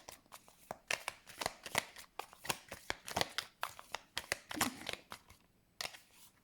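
Tarot cards being shuffled close by in rapid, uneven bursts of crisp riffling and slapping, with a short pause near the end.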